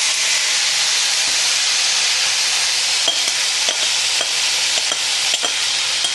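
Food dropped into a big, hot saucepan in a French kitchen sizzles and hisses loudly and steadily, with a few clinks and stirring knocks breaking through the constant frying, and no voices.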